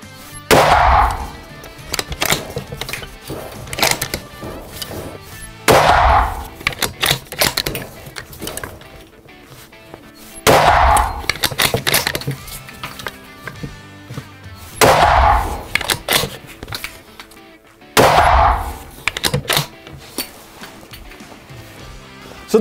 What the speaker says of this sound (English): let's take our next 5-round string and see how we do when it comes to standard deviation